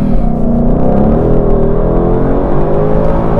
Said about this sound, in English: reason number one, this engine and powertrain